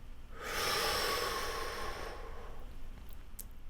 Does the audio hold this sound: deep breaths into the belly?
yes